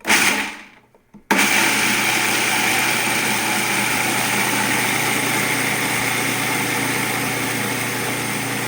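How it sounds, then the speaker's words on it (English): A food processor or blender grinding pecans into nut butter, a short burst and a pause, then a loud, steady, high motor whir that runs on without a break and fades only slightly. "First, you want to grind your nuts down to a butter."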